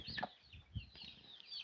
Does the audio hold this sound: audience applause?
no